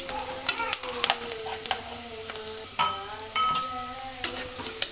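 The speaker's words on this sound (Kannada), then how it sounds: "ಸ್ವಲ್ಪ ಎಣ್ಣೆಯಲ್ಲಿ ಫ್ರೈ ಆಗ್ತಾ ಇದೆ." Vegetables fry in a little oil in a pan for vegetable pulao, sizzling steadily close up, with frequent stirring scrapes and clinks of a spoon against the pan.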